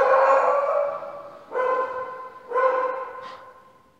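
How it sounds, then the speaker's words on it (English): A dog barks three times indoors, with loud, tonal woofs about a second apart, the last trailing off. No one speaks over them during a quiet flexibility workout for cyclists. "Excuse the dog."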